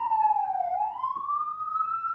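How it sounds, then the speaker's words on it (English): A police siren wails along a New York street, its pitch sliding down then climbing back up in a steady electronic sweep, loud and fairly close with faint traffic rumble beneath. "Sorry about the sirens."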